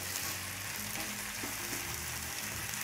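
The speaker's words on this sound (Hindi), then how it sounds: "2 seconds हम इसको बस ऐसे ही सॉटे करेंगे" Potatoes sautéed with salt and lemon juice over a full flame for a Thai potato salad, a steady, dense sizzle and crackle close by, fairly soft, with no pauses.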